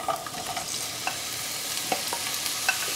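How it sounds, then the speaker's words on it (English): Onions frying in olive oil in a pan on medium heat, a constant close sizzle with light stirring scrapes and small crackles, no voices. "Add a little bit more of olive oil, not too much this time, and dump the onions into the pan."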